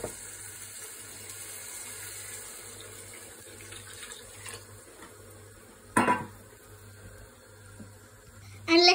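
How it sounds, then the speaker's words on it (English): Tap water runs steadily into a pot of rice seasoned with pink salt and turmeric, a soft continuous trickle close by, broken by a couple of clinking pot and utensil knocks. "We are gonna add some water."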